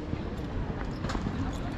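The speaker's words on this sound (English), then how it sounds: "A Polish horse." A horse's hooves clip-clop on a city street in Wroclaw, Poland, a close, uneven patter of hoof strikes mixed with street noise and people talking nearby.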